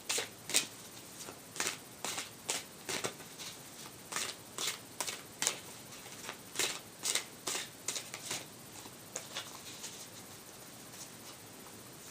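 Tarot cards being shuffled and handled, a series of quick, close riffling flicks and soft slaps in irregular bursts over about twelve seconds, with no talking.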